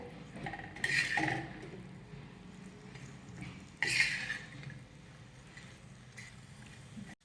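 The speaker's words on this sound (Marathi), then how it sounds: "आता मीठ घातल्यानंतर हे व्यवस्थित मिक्स करून घेऊयात" A spoon scrapes and clinks against a pan on a tawa as salt is stirred into a drumstick stir-fry: quiet, close scraping with two sharper metallic knocks a few seconds apart, no talking.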